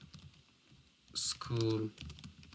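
A short burst of typing on a computer keyboard during a Microsoft Access database exercise, a few quick key clicks up close, with faint voice-like tones in the background.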